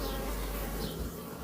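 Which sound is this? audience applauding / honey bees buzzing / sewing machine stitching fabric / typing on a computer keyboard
honey bees buzzing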